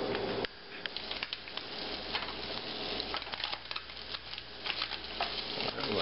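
Slices of ham heating in a hot pan before eggs are added: a steady, close crackling sizzle with scattered sharper pops, moderately loud and continuous, with no voices.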